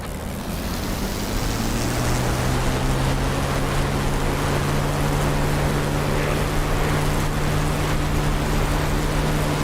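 An aircraft engine in a flight simulator throttles up for takeoff, a loud, continuous roar with a droning tone that rises and then holds steady throughout.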